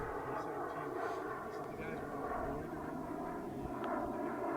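Twin-engine Krill Ares RC jet hovering, giving a steady broadband turbine roar that holds loud and even throughout, with a faint voice underneath.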